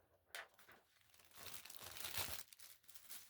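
A layer of acrylic paint is peeled off a gelli printing plate, giving a sustained, sticky crackling tear that swells and fades over a few seconds at close range and fairly quiet.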